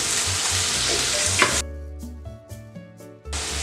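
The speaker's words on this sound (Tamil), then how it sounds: "எல்லாம் சேர்ந்து நல்லா வதங்கிட்டு இருக்கப்போ தக்காளி சேர்த்துக்கலாம்" Chopped tomatoes sauté with chicken in a pan of pepper chicken masala, a steady loud sizzle with stirring scrapes. A spoon or spatula then clinks and taps rhythmically against the pan.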